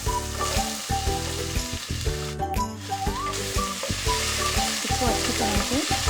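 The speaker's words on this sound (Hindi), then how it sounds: "अब इसमें हम चॉप्ड पोटैटो डाल देंगे।" Chopped potato fries in a pan with whole red chillies for sweet fried rice, giving a loud, constant sizzle with repeated stirring scrapes close up. Faint tonal sounds run underneath.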